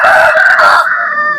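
A kakinemali-breed rooster at a hen market crows loudly and close by in one short, strained call with no talk over it.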